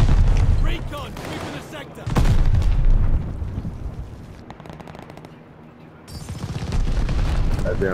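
Grenade blast in the World War II shooter Call of Duty: Vanguard, a loud boom amid bursts of rapid gunfire, close and heavy, with a player's voice talking over the action.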